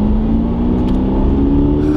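A wrecked 2022 Subaru BRZ with about 20,000 miles drives along, its engine droning steadily with a rising tonal hum from inside the cabin, loud and continuous.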